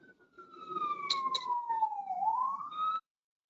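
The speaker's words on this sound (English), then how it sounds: "The siren cut you totally off" A police-type siren wails outside, its pitch sweeping down then rising again, heard at moderate distance for about three seconds before cutting off abruptly.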